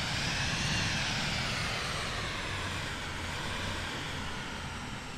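A steady jet-like airplane engine drone as the plane taxis in a flight simulator game, broadband and continuous, holding at a fairly even loudness throughout with a slight easing toward the end.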